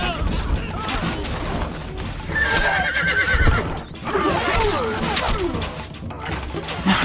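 Horse neighs and whinnies mixed with clip-clopping hooves and battle clatter in the Stronghold Crusader strategy game, dense and loud throughout, with a whinny standing out partway through.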